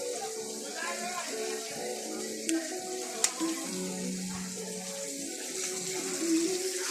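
Water runs from a tap in a steady, fairly quiet hiss, with a couple of sharp clinks and faint household clatter over it and low voices in the background.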